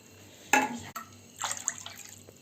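Water is poured from a cup into a vessel of curd to make buttermilk: a short splash, a brief pause, then a second softer trickling pour, close and fairly quiet.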